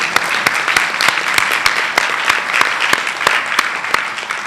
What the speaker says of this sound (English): So I want everybody to give yourself a huge round of applause